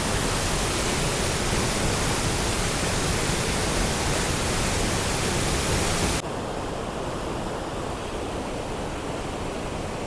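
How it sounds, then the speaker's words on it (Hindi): River water roars steadily through the barrage gates at Head Balloki, a loud, continuous wash of rushing noise that drops to a slightly quieter, duller roar partway through. "ये आप शोर देख रहे हैं, ये सारे का सारा हेड बल्लो की के अंदर पानी जा रहा है"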